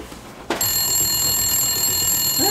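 An electronic landline telephone ring in a video game starts abruptly after a short quiet moment and continues steadily, a bright trilling bell tone with no talking.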